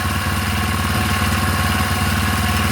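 A four-stroke engine, just started after throttle cable adjustments, idles loud and close with a steady, even, throbbing rhythm and no talk.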